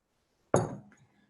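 A glass of distilled water in a chemistry lab gives a single close clink as it is set against a hard surface, then rings out briefly and fades to quiet.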